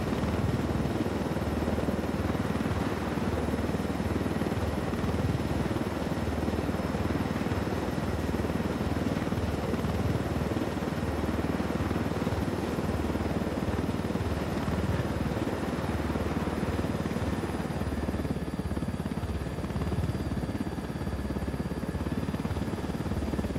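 Helicopter in the video game Ghost Recon Wildlands, a steady loud rotor and engine drone that holds throughout with no pauses, thinning slightly near the end.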